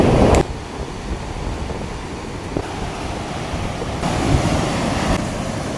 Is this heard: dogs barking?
no